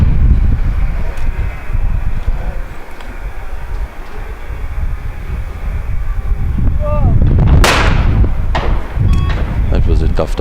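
A shotgun fires at a clay target during a women's trap final at an ISSF World Cup in New Delhi, one loud sharp blast ringing out near the end over steady wind noise and a crowd-filled outdoor range, with commentary voices.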